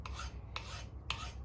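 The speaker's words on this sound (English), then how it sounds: "I'm going to use my second cut file. Just take those spots away." A second cut file rasps across a hand-forged steel breech plug in three quick, even strokes, close and crisp.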